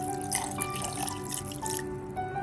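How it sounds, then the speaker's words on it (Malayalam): Tender coconut water poured into a blend of coconut pieces for a juice, a close, soft trickle and dripping of liquid that runs fairly steadily before thinning toward the end. "ഇതിലേക്ക് നമുക്ക് കരിക്കും വെള്ളം ചേർത്ത് കൊടുക്കാം."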